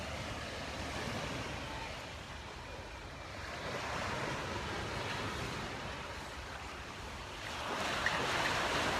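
Artificial waves roll through a resort wave pool on a summer morning, a steady, fairly faint wash of surf that swells a little midway and again near the end, with no voices.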